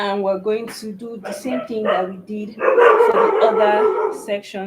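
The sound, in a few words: dogs barking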